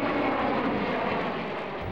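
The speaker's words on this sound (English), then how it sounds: "watch the planes land and take off" Aircraft engines roar steadily at an airport where planes land and take off, a continuous broad rumble at moderate level with no voices.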